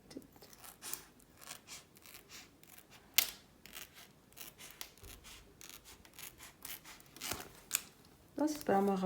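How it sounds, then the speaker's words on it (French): Scissors snip through paper in a series of short crisp cuts, quiet and close, with a voice speaking briefly near the end. "je crois que je vais le faire au ciseau"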